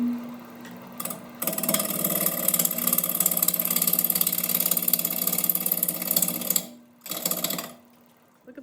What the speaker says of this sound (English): I'm turning it very slow right now because it's making the lathe jump if I go too fast